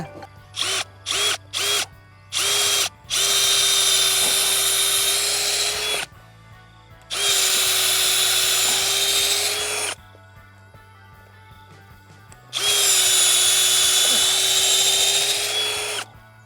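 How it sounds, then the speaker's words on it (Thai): A power drill bores into an agarwood tree trunk in a garden in Phattalung, Thailand, with several short whirring bursts followed by three long loud grinding runs separated by quieter pauses. "คุณอมัดขอเจาะอีกทีได้ไหม"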